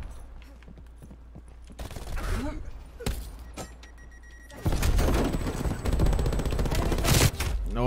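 Machine gun fire from the new MG in the Highjack mode of a shooting game: sporadic close shots early, then sustained loud bursts over the second half mixed with mechanical clatter.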